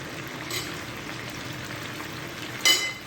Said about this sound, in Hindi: और इसको हम अच्छी तरह से फ्राई करेंगे।